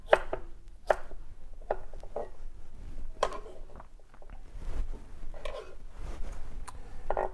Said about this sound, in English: cut the cucumber into slices. And then each slice you can cut into sticks. And then the sticks into cubes.